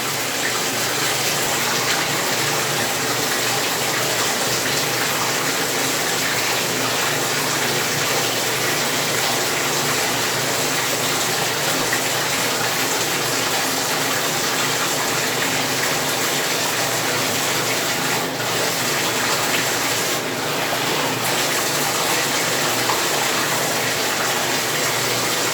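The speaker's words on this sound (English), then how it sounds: "I already got my water running" Tap water runs continuously on a hair wash day, a steady, loud rushing gush that stays even throughout with no voices.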